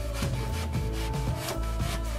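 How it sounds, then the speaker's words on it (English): A hand saw cutting through a cargo trailer roof, with rhythmic back-and-forth rasping strokes about twice per second, steady and fairly loud, with no speech. "That sounds like he's sawing by hand"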